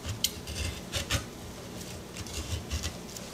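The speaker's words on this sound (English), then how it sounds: "Then I take a spoon and go inside and start scraping the meat out." A spoon scraping coconut meat from the inside of an opened coconut, with quiet repeated scratchy strokes and light clinks in an uneven rhythm, heard alone.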